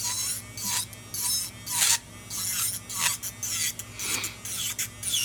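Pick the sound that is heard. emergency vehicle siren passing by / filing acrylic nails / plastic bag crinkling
filing acrylic nails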